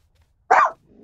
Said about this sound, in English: I have no idea if you guys can hear that, but that's my dog.